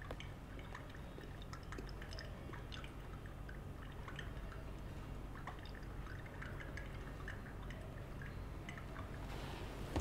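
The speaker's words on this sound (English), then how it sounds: "I will be adding double distilled water through the funnel." Double distilled water poured through a funnel into a sample during a lysine pI lab step, a soft continuous trickle with faint drips, steady and close throughout.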